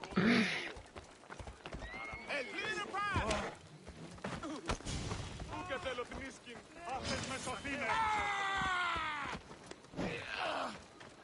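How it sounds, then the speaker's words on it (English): A horse in Assassin's Creed Odyssey neighs and whinnies repeatedly over clip-clop hooves, with a voice talking intermittently alongside. "he was riding his horse on the roof, which is not okay"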